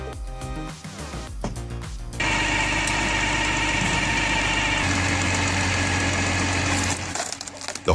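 A small handcart motor drives a homemade timber splitter, running as a loud, steady, knocking engine drone after about two seconds of lighter mechanical clatter, then tapering near the end.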